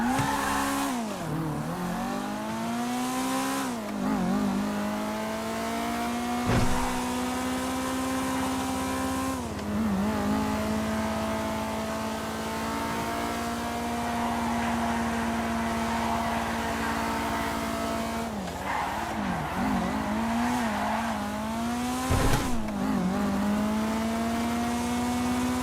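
A two-door car driven in a video game, its engine droning steadily with rising and falling revs as it shifts and accelerates, loud and close with no voices.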